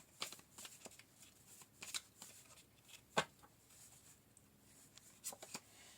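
Tarot cards are shuffled by hand before clarifier cards are pulled, giving soft, close riffling and papery flicks in several short bursts at low volume.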